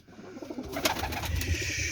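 Pigeons cooing inside a backyard coop, several soft, low, throaty coos rolling over each other at close range, with a faint bird chirp or two mixed in and no talking.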